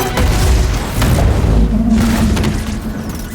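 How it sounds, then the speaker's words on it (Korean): A crystal blows up in an animated series, with a loud, deep boom and a thick low rumble that carries on for several seconds before slowly fading. "크리스탈의 폭발과 함께 기절한 제이스는 과거의 기억을 떠올리게 되는데"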